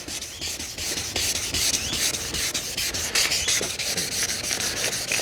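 Sandpaper scrubs back and forth across a plastic car headlight lens during restoration, making rapid rhythmic rasping strokes that are loud and close, with no talking.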